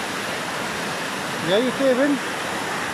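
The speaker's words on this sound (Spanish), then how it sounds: "Entonces acá viene bajando el agua." A waterfall on the road between Puerto Ibáñez and Coyhaique roars in a steady, dense rush close by, while a person speaks briefly over it.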